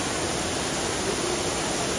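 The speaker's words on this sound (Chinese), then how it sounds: "这个瀑布是从最顶端，好像第七层还是第六层往下流，流到第三层这里倾泻而下的" An artificial indoor waterfall in a Xi'an shopping mall pours from the upper floors down to the third level, making a steady, even rushing roar with no talking.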